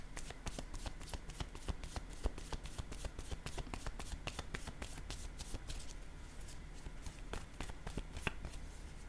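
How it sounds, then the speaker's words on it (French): Image cards are handled and placed during a card reading, a busy run of close, quick flicks and soft slaps, dense and rhythmic like shuffling, with no talk. "Je vais déposer une carte sur joie, une carte image."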